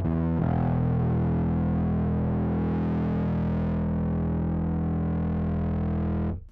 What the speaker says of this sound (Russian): ручка тона делает поярче перегруз, либо более таким тусклым